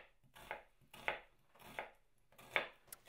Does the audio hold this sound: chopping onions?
yes